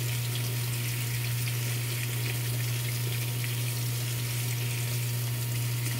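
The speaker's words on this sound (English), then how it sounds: "Each tomato will be washed under" Warm tap water runs steadily over tomatoes being washed, a constant close rush of water with a low steady hum beneath it.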